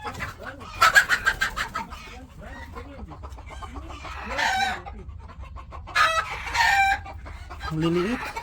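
Small native chickens clucking and crowing on a farm in the desert, with several bursts of close, loud calls coming in irregular clusters while people talk faintly between them.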